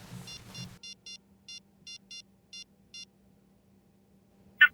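Telephone dialing tones sound as seven short, evenly spaced beeps in quick pairs and singles after a couple of muffled thumps, over a low steady hum, closing with one sharp higher chirp.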